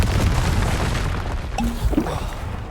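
Spell blasts boom in a Hogwarts Legacy duel, the Confringo blasting curse going off as a heavy low rumbling explosion that stays loud throughout, with a few sharper bursts near the end.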